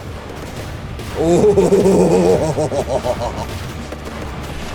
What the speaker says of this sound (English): Fire those cannons.